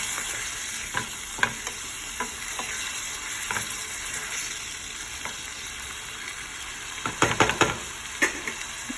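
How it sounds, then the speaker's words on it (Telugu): Tomatoes fry and get stirred in a pan for a tomato curry, a continuous soft sizzle broken by scattered scraping clicks of the spatula, with a busier burst of stirring near the end. "అవి కొంచెం వేగాక టమాటాలు వేసుకున్నాను. అవి మంచిగా కలుపుకోవాలి."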